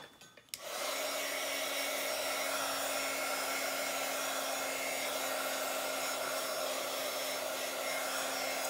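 A hair dryer switches on after a brief fumble and blows steadily to dry paint on a Bible journal page, a loud, even whoosh with a constant motor hum and no talking.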